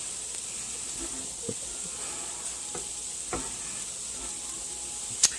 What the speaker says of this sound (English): I got 1 pound of sausage here. We're going to cook that on medium heat.